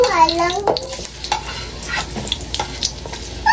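Garlic stirred and fried in a pan of oil for pastil, a loud close sizzle broken by repeated spatula scrapes and clacks, with a brief squeaky whistle at the start.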